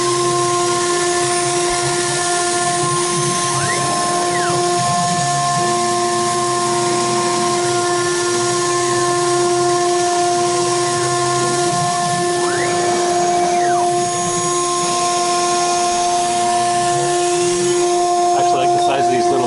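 A CNC router cuts with an up-cut end mill bit, a loud steady high whine with a droning motor underneath that shifts pitch slightly as the cut moves, and someone talks at points over the noise.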